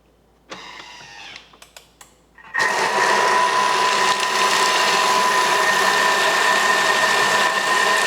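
A Thermomix food processor mixes a meatball mixture at speed 5, starting with a few short mechanical clicks and whirs, then a loud, steady motor whine and churning that runs unbroken to the end.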